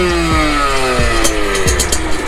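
Beta RR 50 moped two-stroke engine fitted with a Beta OEM Racing exhaust manifold, revving up repeatedly in short rising bursts, loud and close, with a buzzy rasp and no talking.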